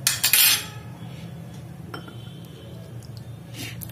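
A spoon clinks and scrapes against a bowl while custard powder is mixed with water, with a quick burst of clatter at the start and lighter taps after, close by, with no speech.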